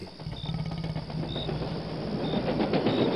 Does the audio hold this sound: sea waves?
no